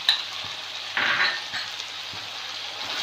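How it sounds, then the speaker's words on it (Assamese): Ground spices, coriander and Kashmiri red chilli among them, fry and get stirred in a pan. A soft steady sizzle runs throughout, with the scrape of a utensil near the start and light clicks as the mix is moved. "আটাইখিনি ভালকৈ লৰাই"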